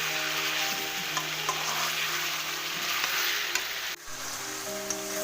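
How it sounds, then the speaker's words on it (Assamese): Local chicken meat frying in a pan: a steady close sizzle with occasional stirring clicks, continuing without a break and without talk. "এনেকৈ অলপ সময় ভাজি থাকিব লাগিব। লোকেল মুৰ্গী যিহেতুকে অকণমান সিজিবলৈ টাইম লাগিব।"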